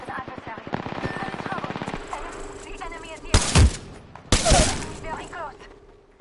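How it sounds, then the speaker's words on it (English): Video game shooter gunfire: rapid automatic bursts rattle at first, then two sharp, loud blasts stand out amid game sounds, with voices talking in places. "The enemies are shooting at me."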